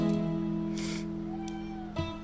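In the video game Old Man's Journey, a cat gives a short meow near the end over a soft, sustained music bed with gentle chime-like tones.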